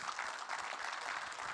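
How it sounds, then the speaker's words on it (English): An audience at a startup pitch competition rally applauds, a dense, even patter of clapping from many hands, fairly distant and soft throughout. "Maybe one more round of applause."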